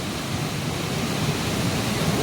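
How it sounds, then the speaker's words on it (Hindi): A mountain waterfall, the Bhimsi falls on the Madmaheshwar temple trek in Uttarakhand, gives a dense, steady roar of rushing water that holds constant throughout without any voices. "देखिए झरना।"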